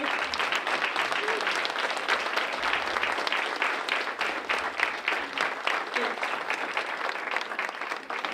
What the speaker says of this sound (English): I think that you deserve a round of applause for all the hard work you do every day.